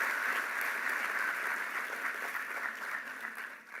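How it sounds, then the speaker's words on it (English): An audience at a youth summit opening ceremony gives a round of applause for the panelists, a broad steady wash of clapping that slowly thins and softens toward the end. "Let's give them another round of applause"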